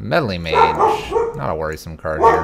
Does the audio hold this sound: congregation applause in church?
no